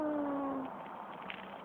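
A cat meows once with a drawn-out, falling cry, moderately close, then fades into quiet background rustle.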